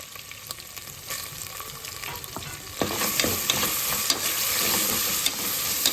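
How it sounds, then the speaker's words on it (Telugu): Onions and curry leaves frying in a hot pan for a mutton brinjal curry, a steady close sizzle with scattered crackles and a few stirring scrapes, growing louder and busier halfway through, with no talking. "ఉల్లిగడ్డలు కూడా మంచిగా పచ్చివాసన పోయేంత వరకు మంచిగా వేయించుకోవాలి"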